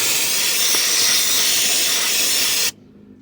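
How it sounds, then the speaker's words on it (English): Brake cleaner sprays onto the oily exhaust manifold of a 1969 Dodge Dart GT as a loud, close, steady hiss lasting nearly three seconds, then stops abruptly. "A little bit of brake cleaner for you."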